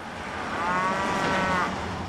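A cow moos once in a long, drawn-out low call, swelling in the middle and fading, fairly close and heard alone with no talking.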